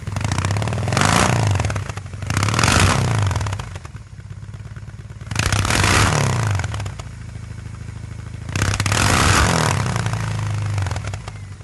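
A BMW R18 boxer motorcycle engine rumbles and revs in four loud bursts, each swelling and then easing back toward a lower idle between them.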